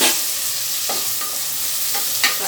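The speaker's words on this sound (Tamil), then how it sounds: "அடுத்தது தக்காளி போட போகிறேன்." Chopped tomatoes go into a pan of sizzling onions for pepper chicken, a steady close fry hiss broken by several scraping stirs of a spoon.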